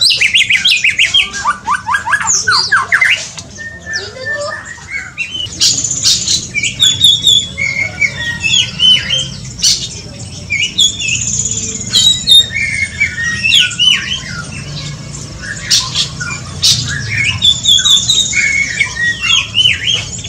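White-rumped shamas and magpie robins in an aviary sing and call busily together, with bright whistled phrases, trills and harsh squawks overlapping continuously over a low background rumble.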